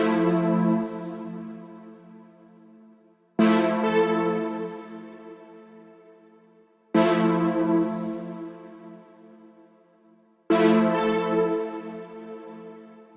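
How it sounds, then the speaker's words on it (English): Four sustained brass-pad chord stabs from the JH Brass Pad Sweeper preset in the Hive synth, used in a chill beat, each swelling in brightly and slowly decaying over about three seconds, evenly spaced with no voices. "It's the JH Brass Pad Sweeper from the Keys and Classics Bank,"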